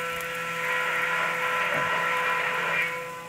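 An Iwata Tool Drimill on a Brother Speedio S1000 high-torque BT30 machine drills 3 mm into aluminum, giving a steady high-pitched whine with faint metallic squealing that holds through the cut and tapers off at the end.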